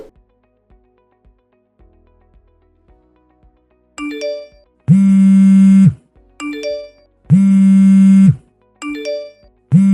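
A phone rings repeatedly and goes unanswered, each loud, sustained electronic ring pattern pausing briefly before starting again, with no one speaking over it.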